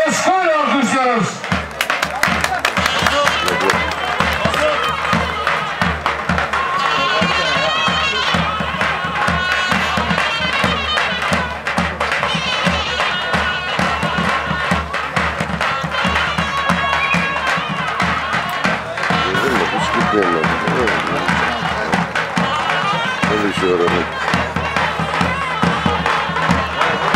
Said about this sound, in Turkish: Coşkuyla alkışlıyoruz.